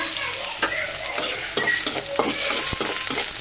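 Dried fish (lotte shutki) with onion and garlic frying in a pan, a steady bright sizzle with stirring clatter and a few scrapes, close and continuous with no talk.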